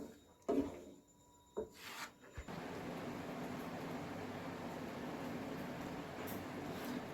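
Spice paste in a pan over a low flame is stirred with a few scraping knocks at first, then settles into a continuous soft sizzling rub.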